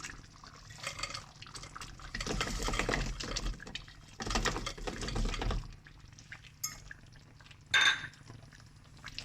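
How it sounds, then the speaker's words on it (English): Fried paneer cubes tumbling into a pan of butter masala gravy, giving soft wet plops and scrapes of a spoon against the pan, with a sharper clink near the end. "And finally, I'm going to add in the fried paneer."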